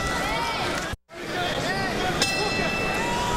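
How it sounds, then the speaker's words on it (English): A boxing ring bell rings once to end round five of a light heavyweight bout between Bernard Hopkins and Enrique Ornelas, its sustained ring cutting through loud arena crowd noise and commentary. "Here comes the bell ending round five."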